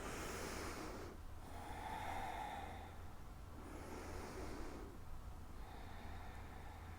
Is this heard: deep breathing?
yes